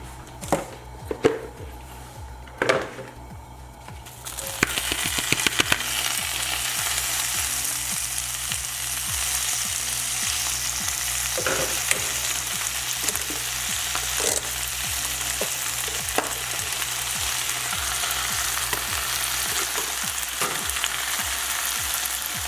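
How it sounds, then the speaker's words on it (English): Spinach and peas fry in olive oil in a pan, a steady close hiss and sizzle that settles in after a few sharp clatters at the start and carries on evenly throughout. "we're going to add the spinach and peas to the pan. Let it heat up for about 2 minutes"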